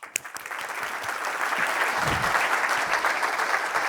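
An audience at a cybersecurity conference's closing session breaks into warm applause, steady clapping that swells quickly and holds at full strength throughout.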